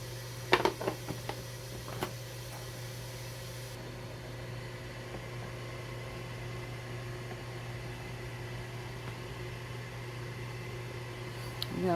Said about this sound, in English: am going to put these in the microwave.